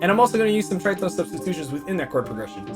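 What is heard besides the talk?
No everyday noises stand out.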